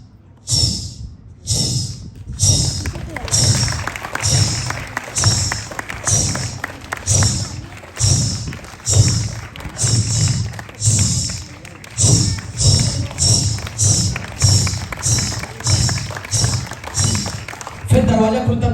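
A comedian on stage vocally imitates jingling ghungroo ankle bells, producing a steady rhythmic series of sharp, chiming bursts repeated about twenty times over a low thumping beat, with faint audience noise.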